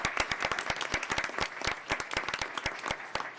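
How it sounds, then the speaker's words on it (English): An audience at a Duval County school board meeting claps for the staff, giving sparse, distinct hand claps in an uneven rhythm, moderately close and without talk. "Can we give them a round of applause for putting this together?"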